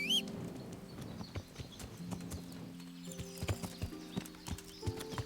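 Horse hooves clip-clop in an uneven trot under light ambient music and scattered game sounds in the video game Kingdom Come: Deliverance, moderately quiet and continuous.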